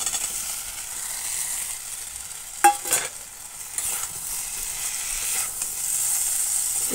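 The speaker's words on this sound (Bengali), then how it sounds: "সব একসাথে একটু কষিয়ে নিচ্ছি" Fried potato and pointed gourd get sautéed together in spice paste for a vegetarian curry, a soft steady sizzle under a few scraping stirs, with a louder clatter of utensil against pan near the middle.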